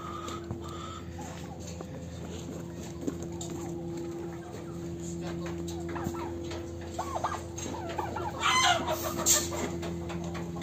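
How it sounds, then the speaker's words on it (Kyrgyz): Turkeys and chickens at a live poultry bazaar in Bishkek cluck and gobble steadily, with a busier, louder burst of calls near the end and general market noise throughout. "Бул жакта да чоң индук экен."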